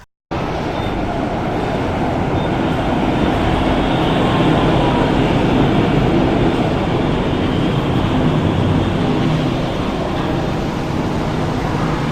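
Loud, continuous rumble of a metro tram in Essen, Germany, running on tracks, with steady low mechanical drone and faint squeal throughout.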